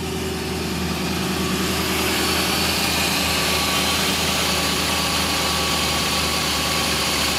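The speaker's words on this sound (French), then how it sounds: "Un moteur qui tourne très bien, régulier, doux, pas de bruit suspect." An original 1965 Ford Mustang convertible's 289 V8 idles close up, a continuous, even, smooth rumble holding at a constant level throughout with no voices.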